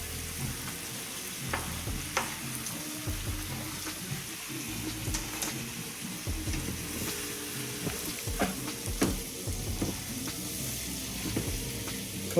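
Tomato and jalapeno sizzle in a hot frying pan for charro beans, a steady crackling fry with occasional stirring clatter throughout, fairly close.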